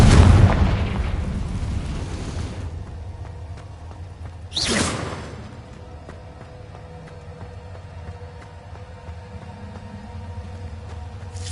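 A Confringo explosive spell goes off in Hogwarts Legacy: a loud booming burst at the start that decays over a couple of seconds, then a sharp whooshing blast midway, fading into low rumbling game ambience.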